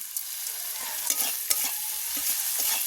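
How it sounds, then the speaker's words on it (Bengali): Chopped ginger frying in a pan for a tarka dish, a steady close hiss of oil with a few stirring scrapes. "আদা কুচি দিয়ে দেবো দিয়ে ভালো করে ভেজে নেব"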